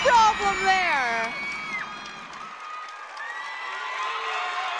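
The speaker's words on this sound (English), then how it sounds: "ISU's got a little fan crowd behind us going right now." A small group of college gymnastics fans cheers and shouts at a floor routine, the crowd noise loudest at the start and then settling into a steadier murmur with voices rising over it.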